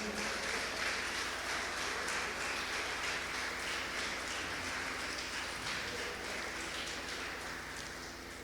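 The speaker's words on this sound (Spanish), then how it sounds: "Vamos a recibir al pastor Daniel Báez con un fuerte aplauso." Dense, steady audience applause welcoming Pastor Daniel Báez fills the whole stretch, a continuous wash of many hands clapping that eases off slightly toward the end.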